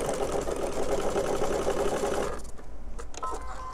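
A sewing machine runs steadily and close while restitching a quilt seam, a fast even whir that stops abruptly near the end, leaving faint clicks and handling noises.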